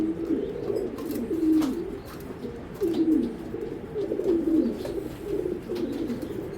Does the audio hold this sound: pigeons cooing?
yes